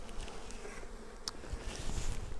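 Honey bees swarm at the entrance of a Flow Hive, giving off a steady, dense drone of buzzing that stays close and fairly loud throughout, with no voices over it.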